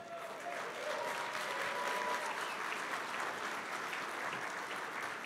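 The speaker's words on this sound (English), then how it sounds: "Big round of applause for Jim Burkell" An awards-night audience applauds a presenter taking the stage, a steady, even roar of clapping from a crowd that holds for the whole stretch with a faint voice underneath.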